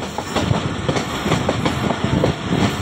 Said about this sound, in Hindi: जाफ़र एक्सप्रेस रावलपिंडी से निकलने के बाद पहला स्टॉप गुजरखान की तरफ अप्रोच बना रही है